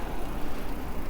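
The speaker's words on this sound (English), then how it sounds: "Now there's a lot of traffic" Road traffic in a Japanese hometown, with cars passing nearby as a steady low rumble of engines and tyres that swells and eases over a brief moment.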